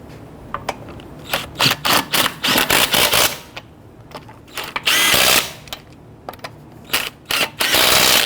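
Lug nuts on a 2011-2017 Nissan Quest wheel are snugged down in quick bursts of clattering, ratcheting tool noise separated by short pauses, close and loud.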